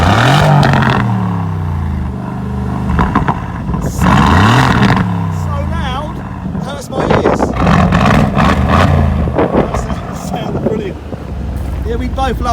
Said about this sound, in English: this has got sports exhaust